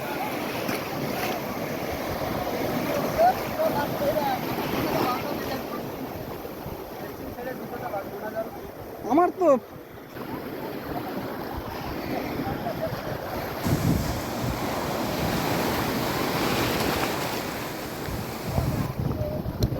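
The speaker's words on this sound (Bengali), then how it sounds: "ঢেউটা ব্যাপক ঢেউ আসতো ব্যাপক ঢেউ আসতো" Big ocean waves wash onto a beach under strong, buffeting wind noise, a continuous rolling roar with slow surges.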